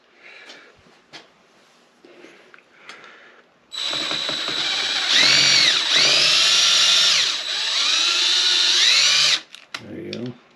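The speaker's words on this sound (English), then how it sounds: "we're going to try and just drill it out and pull it" A DeWalt power drill bores out a stuck flathead screw on a Honda CB450 engine, a loud high whine running continuously for about six seconds with pitch dips under load, after quieter clicks and handling.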